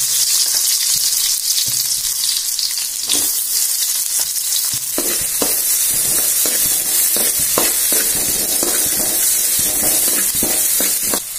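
Onions frying in hot oil in a pan, a steady loud sizzle with crackling pops and occasional stirring clatter, continuous and close with no talk.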